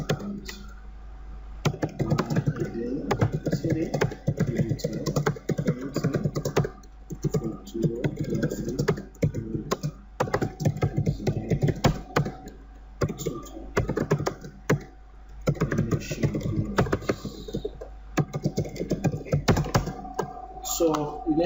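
Steady computer keyboard typing with quick irregular key clicks and occasional thunks, close and clear, continuing throughout with brief pauses between bursts.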